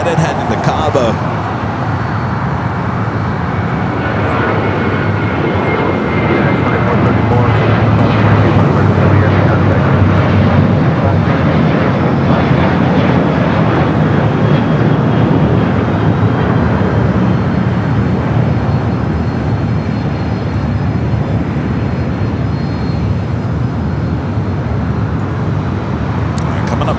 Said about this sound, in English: Next takeoff, 737-800 with the United heading to Cabo.